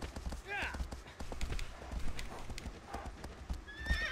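A horse galloping in the Shadow of the Colossus video game, rhythmic hoofbeats with loud whinnies near the start and end, while someone talks over it.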